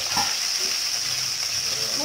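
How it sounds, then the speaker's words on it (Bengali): Slices of pointed gourd (potol) frying in a pan with salt, giving a steady, close sizzle and hiss that runs unbroken from start to finish. "বন্ধুরা, আমি পটলগুলো ভাজতে শুরু করে দিয়েছি"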